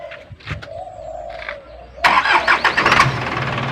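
A car engine cranks briefly, then catches and starts with a loud rush, settling into a rough running sound at close range.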